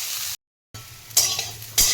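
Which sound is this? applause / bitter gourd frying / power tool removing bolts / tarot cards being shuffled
bitter gourd frying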